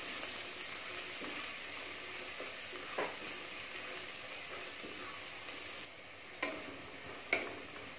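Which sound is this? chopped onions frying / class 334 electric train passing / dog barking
chopped onions frying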